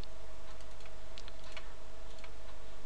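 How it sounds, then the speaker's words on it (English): Typing on a touch screen keyboard: soft, quick taps in scattered clusters over a faint steady hum, close but quiet. "You can see here is a keyboard, so I can use it as a normal keyboard on a touch screen."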